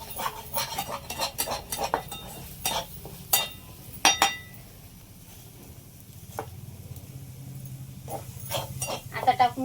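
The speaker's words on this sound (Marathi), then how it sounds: "अगोदर ही मिरची पावडर जी आहे ते कच्चेपणा सगळा जाईपर्यंत असंच फोडणीत परतून घेऊ" Chili powder being sautéed in a tempering for a spicy drumstick curry: a spoon clinks and scrapes against the pan in irregular bursts over a faint sizzle, with a few quiet pauses.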